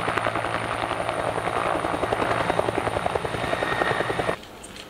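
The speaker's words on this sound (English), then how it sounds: "This is helicopter. Nice helicopter." A helicopter's rotor beats steadily and loudly at close range with a constant rhythmic chop and an engine whine. It cuts off abruptly near the end, leaving a quieter background.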